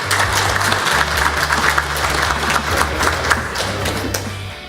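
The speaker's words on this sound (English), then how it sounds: "Please, let's give him a round of applause." Audience applause at an opportunity zone investors conference in Puerto Rico, a dense, steady round of clapping lasting throughout, with a low hum underneath.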